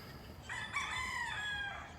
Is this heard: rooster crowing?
yes